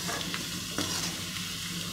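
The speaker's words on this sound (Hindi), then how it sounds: "पलट कर इसको हर तरफ से हम फ्राई करेंगे, वरना ये कढ़ाई में चिपक जाएंगे" Pieces of taro root (arbi) fry in hot oil in a kadhai-style wok, a dense steady sizzle filling the background while a spoon scrapes and stirs with a few soft knocks against the pan.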